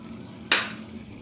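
A single quick scrape of a spoon stirring yogurt and a sesame-poppy seed paste into mutton masala frying in a pan, with a soft sizzle before and after it.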